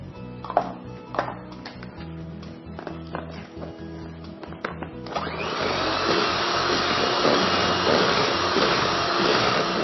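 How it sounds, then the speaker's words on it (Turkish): An electric mixer whisks cake batter for a wet sauced cake after flour and baking powder go in. Clinks and taps come first, then a loud, steady motor whir runs to the end. "320 gram unumuzu, bir pakette kabartma tozumuzu ilave edip kekimizi çırpıyoruz"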